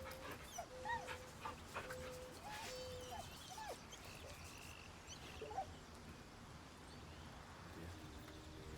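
A dog in the video game Baldur's Gate 3 whimpers and yips in short high bursts, mostly in the first few seconds, over a busy ambient game backdrop with faint other sounds.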